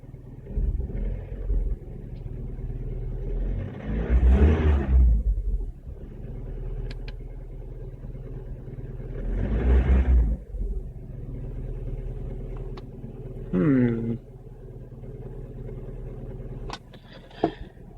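A car engine idles and runs after an engine control unit project, a steady low rumble with a couple of revs swelling and fading, heard up close with no one talking.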